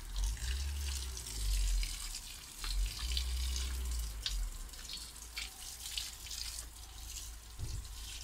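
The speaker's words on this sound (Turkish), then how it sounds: "güzel sulanan sukulentler arkadaşlar yaz gününde" Water runs steadily onto potted succulents on a summer day, a continuous close gurgling splash with small shifts in flow and no voices.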